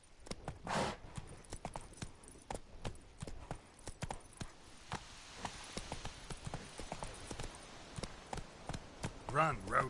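Roach, the horse in The Witcher 3: Wild Hunt, gallops with steady, close clip-clop hoofbeats that run through the whole stretch, while a voice speaks briefly over the hooves.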